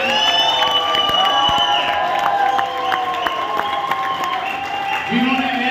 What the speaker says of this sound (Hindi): जोरदार तालियां बजाइए। शानदार तालियां बजनी चाहिए